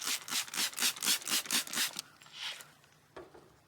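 Rhythmic back-and-forth rasping of 400-grit sandpaper wet sanding a car headlight, about eight quick strokes, then a few slower, fainter rubs close up.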